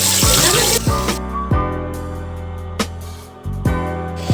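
Drumstick (moringa) leaves are rinsed gently under running water, a loud close splashing and trickling that breaks into uneven pours and drips.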